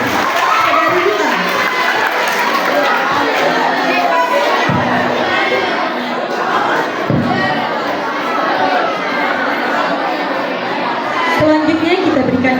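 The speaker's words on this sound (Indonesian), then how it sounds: "Berikan tepuk tangan yang meriah pada regu A." A lively crowd of children and adults cheers and claps for Team A at a religious quiz contest, a loud continuous roar of shouts and chatter throughout.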